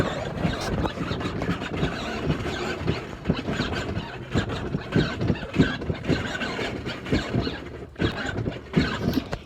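A Power Wheels Jeep ride-on toy drives along, its electric motor and gearbox giving a loud, close, continuous whining squeal with uneven bumps and rattles.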